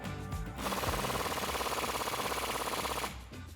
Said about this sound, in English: now we're just going to reinstall this bottom bolt here and hit it with the impact gun